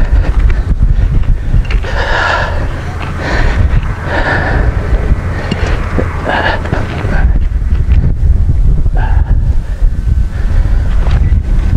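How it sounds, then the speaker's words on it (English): Strong wind buffeting the microphone outdoors during metal detecting at Palmyra, a loud continuous rumble with gusting surges throughout and a voice faintly heard under it. "this is running super windy"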